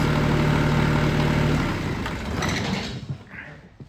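A Kioti CS2210 compact tractor diesel engine idles high at about 1500 RPM, a steady close rumble with a constant hum that fades and becomes uneven toward the end.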